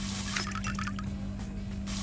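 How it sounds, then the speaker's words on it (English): Water trickles and bubbles into a cup in short gurgling bursts over a steady low hum, close and fairly quiet, in a cooking setting. "fill it with water"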